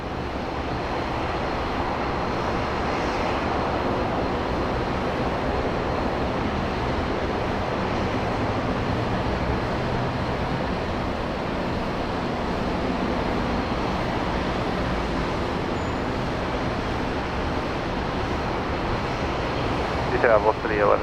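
Airliner taking off from runway 19 right at Brisbane Airport, a steady broadband engine roar holding at constant loudness throughout, with no clear rise or fade.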